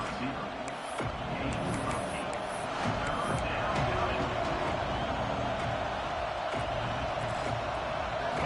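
Stadium crowd noise from the NCAA 26 college football video game, Florida State at Nebraska, a broad steady roar of fans swelling through a big third down and continuing under the game's play-by-play commentary.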